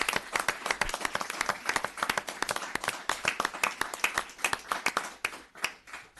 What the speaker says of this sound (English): So yes, you can applaud right now, because they deserve it.